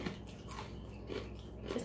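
Someone bites into a crunchy fried pasta snack from Israel and chews it close to the mic, giving soft repeated crunches over a steady low background hum.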